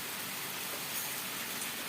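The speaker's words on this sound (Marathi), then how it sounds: "हे बघा जोरात पाऊस चालू झाला" Heavy rain pours steadily, a dense, even hiss with no pauses, close and loud throughout.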